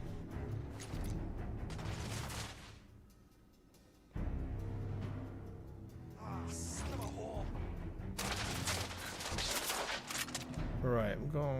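Gunfire in The Order: 1886 during a firefight with rebels, with bursts of shots over a rumbling, busy game mix; someone talks over parts of it, and there is a brief lull before the shooting resumes louder.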